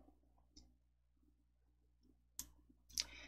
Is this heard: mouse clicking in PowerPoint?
yes